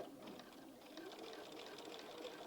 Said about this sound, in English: I'm now going to stitch back over a previous row of stitching.